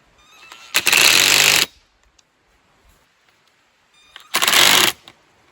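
Two bursts of a whirring power driver tightening a hose clamp on a water line fitting, each loud and close, about a second long, separated by quiet with faint handling clicks.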